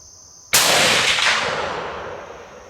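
A single loud muzzleloader rifle shot during a bullet test cracks sharply after a brief quiet moment, then its boom decays slowly over the next two seconds.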